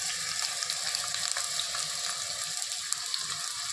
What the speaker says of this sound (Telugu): నూనె పోసానండి. ఉల్లిపాయలు వేపేస్తాను.